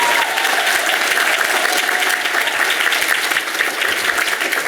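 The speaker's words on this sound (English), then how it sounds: "let's give a big round of applause for the students featured in this video" An audience applauds students at a Hope Chicago event, a dense, steady clapping from a sizable crowd that stays loud and even for several seconds.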